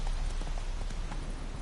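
A horse trots along in The Witcher video game, its hooves clip-clopping in a steady rhythmic beat, fairly close and clear over a low background hum, with no talk.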